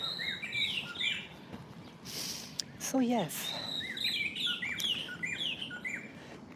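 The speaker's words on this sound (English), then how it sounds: "See the birds, I love it." Repeated bird chirps and whistled phrases ring out nearby, with a person speaking briefly partway through and some outdoor noise underneath.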